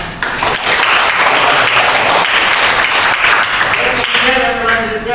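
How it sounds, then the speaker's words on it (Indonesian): A class of students claps together, loud and continuous, with a voice talking near the end. "Oke, tepuk tangan."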